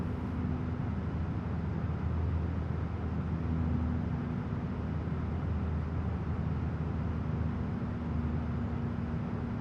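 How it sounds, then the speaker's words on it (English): A PMDG 737-800 engine in Microsoft Flight Simulator, fitted with a Boris Audio Works sound pack, throttles back after levelling off at top of climb, a dense, steady cockpit rumble with a faint constant tone and no voices. "Hear that engine pull back."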